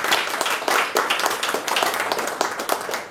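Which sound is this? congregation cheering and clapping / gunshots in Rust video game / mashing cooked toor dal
congregation cheering and clapping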